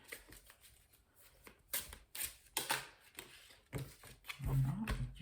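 Tarot cards are shuffled and drawn from the deck: a series of soft riffling and slapping bursts, uneven and close, with a louder rustle near the end, and no one speaking.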